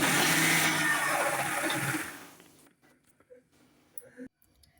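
A kitchen mixer grinder whirs loudly while grinding chutney for about two seconds, then winds down and stops, followed by quiet clinks and small handling noises.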